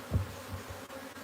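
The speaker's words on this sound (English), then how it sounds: "it's a lot of bees" Bees from a wild hive being moved into a new home give a faint, low buzzing hum, with a couple of brief swells over a quiet background.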